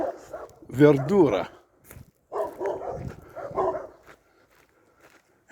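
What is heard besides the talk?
dogs barking at a farm in Sicily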